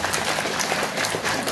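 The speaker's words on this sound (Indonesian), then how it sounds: "Kita berikan aplaus dulu terhadap" An audience at a religious study gathering claps in steady, dense applause that fills the short moment without pause.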